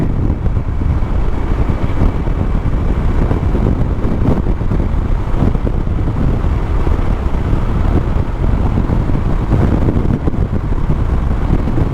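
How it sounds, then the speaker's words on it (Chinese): A Yamaha Tricity 300 scooter is held at full throttle on a highway at night, a loud, steady engine drone buried under heavy rushing wind noise. "我现在全油门灌下去，"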